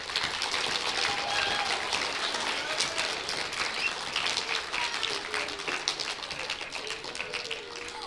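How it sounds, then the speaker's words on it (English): A spelling bee audience gives a round of applause for two contestants, a soft, continuous patter of many hands clapping from some distance, fairly even throughout with a faint murmur of voices beneath. "let's give Josie and Riker a round of applause"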